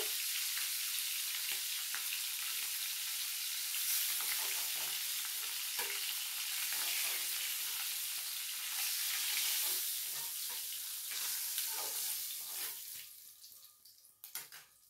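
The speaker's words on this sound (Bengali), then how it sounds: "দেখো মাছটা ভালোভাবে ভাজা হয়ে গেছে।" Bhangan fish frying in hot oil in a home kitchen, a steady bright sizzle that swells and fades slightly, then thins out near the end with a few clinks, no voices.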